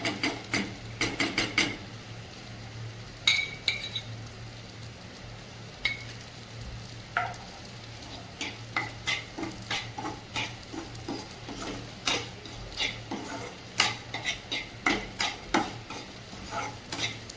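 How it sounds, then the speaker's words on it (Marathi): Moong dal being roasted in a spoonful of ghee in a pan over very low heat, stirred with a spoon that gives repeated scraping and tapping strokes against the metal over a soft background sizzle, close and steady, with no talking. "आणि एकदम मंद आचेवर आपण आता ही मूग डाळ आणि ते छान भाजून घेऊया त्यामध्ये आपण एक चमचा तूप टाकून घेऊया"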